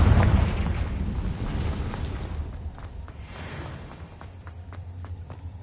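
A Confringo blasting spell explodes in Hogwarts Legacy on PS5, a loud booming burst at the start that rumbles and decays over several seconds, followed by scattered faint pops and footstep-like ticks.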